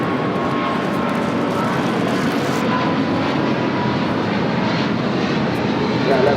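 Loud, steady engine roar from a United Boeing 777 at LAX bound for Honolulu, continuous and close throughout.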